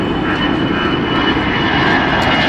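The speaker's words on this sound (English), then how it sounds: "Look at these awesome planes." Airplanes fly close by near the LAX runway, a loud continuous engine roar that fills the whole stretch without pause, no voices over it.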